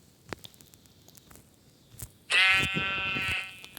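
A Minecraft sheep gives one loud, close bleat lasting about a second, following scattered faint clicks and game noises.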